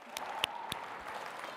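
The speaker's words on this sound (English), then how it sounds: "Let's give him a round of applause." Audience applause breaks out at a charity auction as a lot sells, a short burst of many hands clapping together, with a few sharper claps standing out near the middle.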